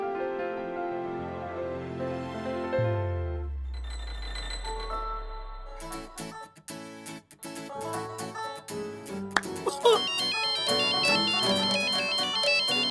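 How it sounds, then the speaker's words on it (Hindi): A mobile phone ringtone plays a melodic electronic tune that shifts through several musical phrases, loud and clear, with no voices over it. "मैं राज को फोन करके बुला लेती हूँ।"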